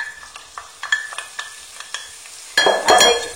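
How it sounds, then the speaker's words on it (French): Sliced onions go into hot oil, first a run of sharp spoon taps and stirring clicks against the pan, then a sudden loud sizzle as the onions start sautéing. "je vais faire revenir dans de l'huile"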